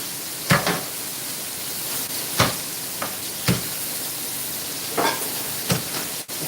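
Thick chunks of frozen onion sizzling in a pan for Chinese pepper steak: a constant, fairly loud hiss with several sharp clacks and bumps of the pieces and utensil scattered at irregular intervals.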